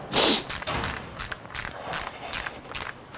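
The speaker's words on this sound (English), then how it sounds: "I use a ratcheting wrench" A ratcheting wrench tightens the rim lock on a motocross wheel with a rapid, close series of clicking strokes, repeated in quick rhythmic bursts.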